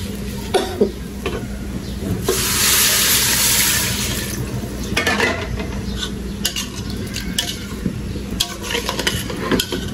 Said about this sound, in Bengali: এখন দিয়ে দিব আমি পানি।